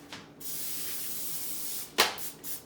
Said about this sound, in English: next thing to do is spray my baking sheet